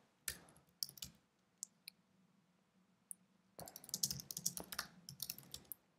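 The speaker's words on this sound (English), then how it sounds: "my typing is bad" Computer keyboard typing in two bursts of quick, uneven clicks with a quiet pause between, close and moderately loud, no talk.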